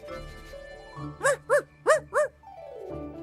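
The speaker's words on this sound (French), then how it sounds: "Micmac, vas-y mon toutou, suis sa trace." A cartoon dog from a French animated series gives four sharp, evenly spaced barks, loud and close over a soft sustained musical backdrop.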